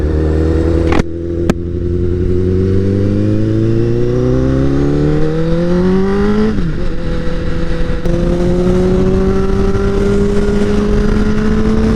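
A 2015 Honda CBR1000RR Fireblade revs hard and accelerates, its engine note climbing steadily in pitch with a brief shift dip midway, loud and close with wind rush throughout and no talk.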